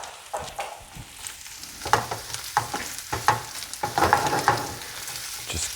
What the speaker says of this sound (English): Stir that in a little bit just to get it tossed up in the butter. Now we're going to dump in our crab meat.